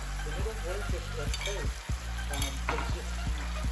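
Stir-fry sauce thickened with cornstarch sizzles steadily in a pan, with a rhythmic series of scraping stirs every half second or so and an occasional light clack of a utensil.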